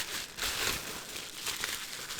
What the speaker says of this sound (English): So let's finish the magical unwrapping.